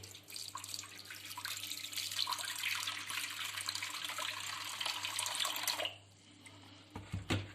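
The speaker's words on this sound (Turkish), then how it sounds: "Bundan sonra suyumu kontrollü bir şekilde dökmeye başlıyorum." Water pouring steadily into a pide dough mixture of flour and yeast in a kitchen, a continuous close splashing stream that stops abruptly near the end, followed by a few faint clinks.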